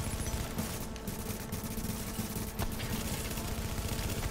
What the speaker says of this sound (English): A doggone SASG do not shoot that fast, homeboy.